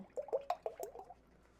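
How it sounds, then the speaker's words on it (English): Heavy whipping cream poured into a pint jar makes a short run of soft glugging, dripping splashes close by, fading out after about a second. "Do 1 cup of heavy whipping cream."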